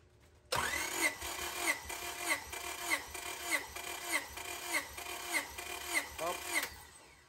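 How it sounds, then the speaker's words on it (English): Honda B16A engine in a Civic SiR cranking on the starter during a compression test, about ten even rhythmic compression pulses after a sudden start, loud and close with no talk. "let's do a compression test before we disassemble it"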